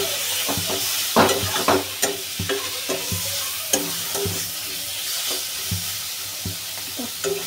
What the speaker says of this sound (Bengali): দিয়ে ভালো করে নাড়িয়ে